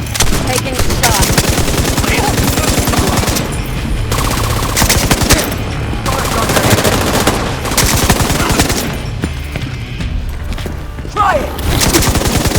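Rapid automatic gunfire from a shooter video game: loud, sustained bursts repeat across the whole stretch with short gaps between volleys and thuds mixed in, and no talking.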